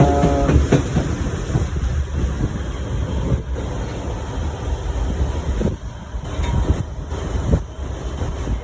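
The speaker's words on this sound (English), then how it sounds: "Choo-choo train." A passenger train on the Skagway railway rumbles steadily, with wheel clatter and mechanical rattling carrying close by through the whole stretch. A few louder knocks and shifts stand out, and no talking is heard.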